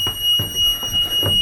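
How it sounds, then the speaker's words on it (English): A parked fire truck sounds its warning beeper while its air tanks fill, a repeating alarm tone over a low pulsing engine rumble. "The beeping will turn off as soon as my air tanks fill up."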